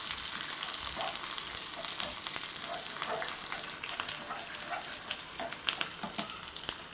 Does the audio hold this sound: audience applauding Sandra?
no